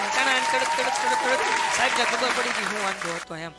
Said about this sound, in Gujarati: જો ચેક કરી લ્યો, આ થઈ ગયો તાળીઓનો અવાજ.